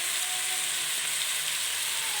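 Boneless chicken fries in a pan over a lowered flame, a constant close hiss and sizzle with no breaks and no talking.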